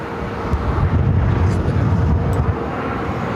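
An American Airlines jet on its takeoff roll from runway 7 left at Phoenix Sky Harbor, a loud continuous roar of engine thrust holding steady throughout.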